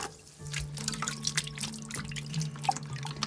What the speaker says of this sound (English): I'm using warm water to wash it.